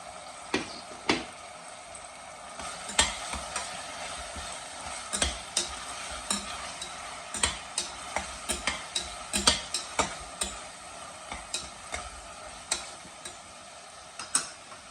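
Ginger garlic paste frying in oil in a pan for a mutton and green bean curry, a steady sizzle broken by regular sharp spoon clacks and scrapes against the pan, close and without talking.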